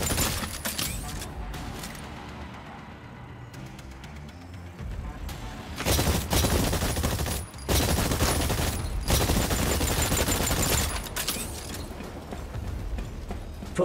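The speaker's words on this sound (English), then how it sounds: "Fire at the target." Gunfire at targets in Exoprimal comes in repeated loud bursts separated by brief lulls, with mechanical clanks between volleys.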